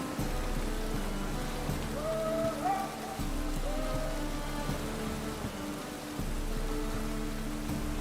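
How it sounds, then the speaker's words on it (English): Steady rain falling in The Witcher 3 video game, a constant dense hiss over a low droning music bed with a few faint tonal glides, continuous throughout. "Rain like this would fetch a fortune in Zerrikania."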